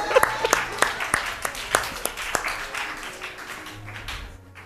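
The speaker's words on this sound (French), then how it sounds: "Acclamez-le." A church audience claps at a pastor's sermon. Scattered individual claps are heard close by at first, then a softer, thinning round of applause fades out.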